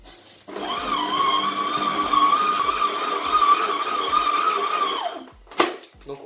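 Stand mixer kneading chocolate croissant dough on second speed, a steady motor whine with a rhythmic thumping churn that runs for about five seconds before cutting off, followed by a sharp clunk.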